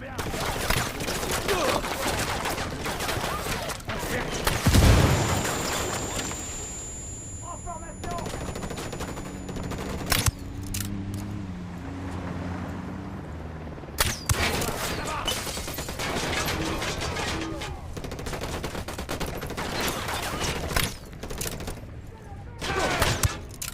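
Gunfire in the video game Ghost Recon Wildlands, with rapid bursts and sharp single shots cracking throughout, loud and dense, while players talk over the shooting.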